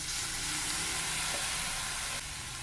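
Potato and vegetable filling for egg rolls sizzles steadily in a frying pan, a constant close hiss of frying with faint stirring, no voices.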